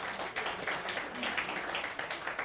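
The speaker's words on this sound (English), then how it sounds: "Give him a round of applause for his commitment nationwide." Audience applause at a 16th anniversary celebration, a soft, steady patter of many hands clapping at a distance, faint and continuous throughout.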